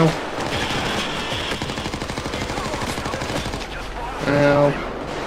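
Rapid bursts of automatic gunfire rattle through a nightclub shootout in the video game Payday 2, with enemies firing at the player in repeated volleys while someone talks over the shooting.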